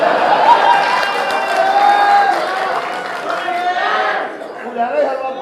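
Audience at a Punjabi comedy stage drama clapping and murmuring, a steady wash of applause and crowd chatter that thins toward the end, with a voice rising through it.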